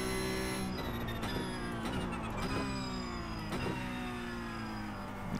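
Porsche engine in a racing video game at Monza, droning steadily and close, with pitch sweeps through gear changes and a faint whine over a continuous roar.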